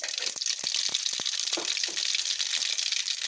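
Mustard seeds fry in hot oil in a pan, giving a steady, close sizzle with sharp crackling pops scattered through it.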